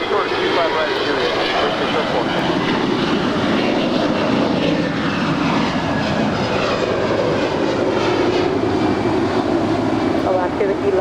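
An airliner taking off from runway 25 right at LAX airport in Los Angeles: loud, steady jet engine roar that fills the whole stretch, close and continuous, with radio talk heard faintly beneath it.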